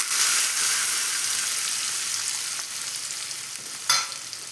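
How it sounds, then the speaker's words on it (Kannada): Hot spice tempering poured into papaya raita, a loud, close sizzle that starts strong and slowly fades, with a brief louder burst near the end and no talk. "ರಾಯ್ತಾಕ ಒಗ್ಗರಣೆ ಹಾಕ್ಕೊತೀನಿ."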